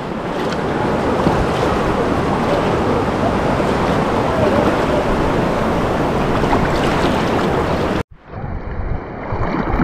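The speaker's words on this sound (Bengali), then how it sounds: "পেছন দিকে পাহাড় আর কল কল করে নদী বইছে।" The Bogamati river rushes over stones below the hills, a loud continuous roar of flowing water close to the microphone with some wind buffeting, cutting off abruptly near the end into a quieter, muffled water sound.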